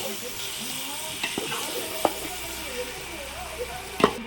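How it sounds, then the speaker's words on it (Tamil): Chicken fries in masala in a pan for cumin-rice biryani, giving a steady sizzle throughout with a few sharp clinks and scrapes as it is stirred. "இப்போ வந்துட்டு சிக்கனை வந்துட்டு நல்லா பரட்டிடுங்க இந்த மசாலில்"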